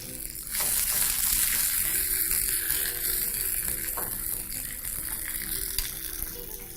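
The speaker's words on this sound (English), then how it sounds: "very important that you continuously proceed to turn your sausages as they cook" Classic British bangers sizzling and spitting in a frying pan, a steady close crackle with occasional scraping knocks as they are turned.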